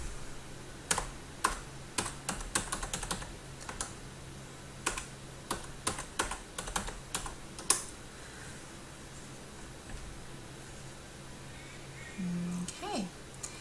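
Typing on a computer keyboard while filling in a registration form, scattered irregular clicks and short runs of keystrokes close by, quiet, with occasional talk.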